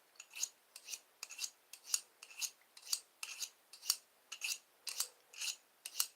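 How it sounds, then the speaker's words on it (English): A blade drawn back and forth over a leather razor strop, a steady run of about fifteen crisp rasping strokes, each one brief and even in rhythm, close by with no voices. "Then I gotta get out my razor strap. That's how I get a good edge on this."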